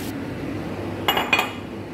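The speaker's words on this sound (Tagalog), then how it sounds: "i-mix lang natin yan until mag-well combine yung ating flour sa ating mushroom, carrots, onion, and garlic" A utensil clinks and scrapes against a pan while flour is stirred into mushroom, carrots, onion and garlic, two short metallic knocks standing out over a low steady background hum.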